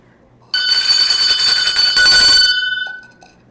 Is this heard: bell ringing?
yes